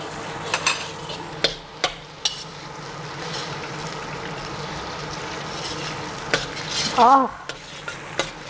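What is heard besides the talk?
frying chili paste and garlic in a pan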